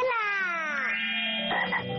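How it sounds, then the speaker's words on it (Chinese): A frog croaks loudly and close up, a long drawn-out call that slides down in pitch, followed by a rougher burst near the end, with no talking over it. "哇，小青蛙在唱歌呢。"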